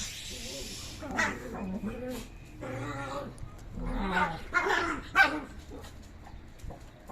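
Several dogs bark in scattered bursts at a middle distance on a street in Mexico, mixed with background voices and street noise.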